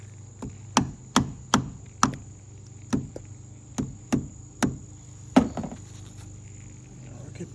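Sharp metallic taps of a small hammer driving a screwdriver wedged under a car battery hold-down bracket, about a dozen close, distinct strikes in an irregular rhythm, with a faint steady hum behind.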